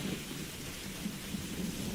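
Steady rain falls with a low rumble of thunder beneath it, a dense, even hiss that stays constant throughout with no voices.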